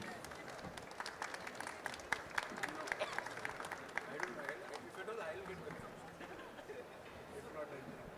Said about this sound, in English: A huge round of applause to the speakers,